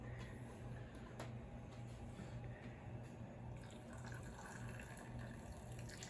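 Liquid being poured into a pickle jar, a soft, continuous trickling fill heard faintly over a low steady hum, with no pauses.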